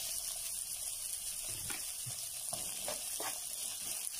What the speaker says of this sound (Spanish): Y para comenzar en una sartén con muy poquitito aceite, es muy poquito porque ahorita vamos a agregar la mantequilla, voy a agregar el chile poblano picadito y la cebolla